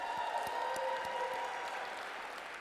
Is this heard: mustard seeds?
no